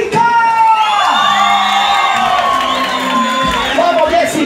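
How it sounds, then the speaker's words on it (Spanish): At a school, a group of children cheer and shout loudly together, with high excited whoops and yells in a sustained burst close by. "El aplauso, los gritos y la mano arriba para Jessica."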